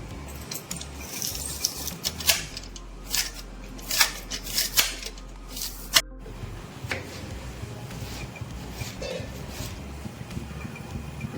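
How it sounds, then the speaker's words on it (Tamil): A knife chops onions for mutton curry, with sporadic sharp taps and clicks in short clusters, moderately close, then lighter scattered knocks over a quiet background. "வெங்காயம் கட் பண்ணிக்கலாம்"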